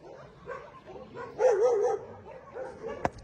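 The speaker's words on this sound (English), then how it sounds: "There's beautiful, lovely big doggies." Big dogs up for adoption bark and yip a few times in short bursts, with one sharp, loud bark near the end, close by and without talk over them.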